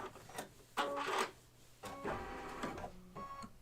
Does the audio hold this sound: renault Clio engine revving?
no